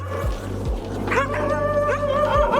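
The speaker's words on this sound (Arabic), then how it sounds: "في كلاب كتير قوي." Several street dogs yelp and bark in short bursts at night outdoors, with a steady low hum underneath and no talking.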